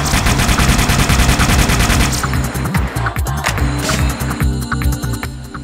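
The Needler weapon from the video game Halo: Combat Evolved fires in rapid automatic bursts. Dense, loud, rattling shots with crystalline whooshes continue steadily through the whole stretch with no talking.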